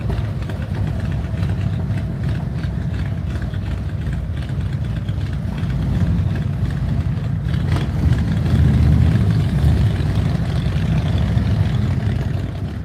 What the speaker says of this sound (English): Our motorcycles are arriving.